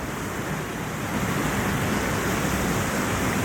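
A forest waterfall in Dodamarg taluka in the Konkan region sends water pouring from a height, a steady, close, even roar that swells slightly partway through, with no voices.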